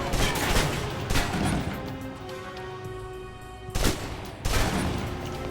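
Submachine gun fire in the video game Alpha Protocol, heard as loud scattered bursts and sharp cracks with a quieter stretch in between.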